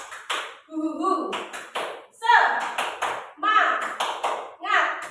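A group does the 'tepuk semangat' clapping routine at a school training session, sharp claps in a steady rhythm mixed with people chanting along loudly.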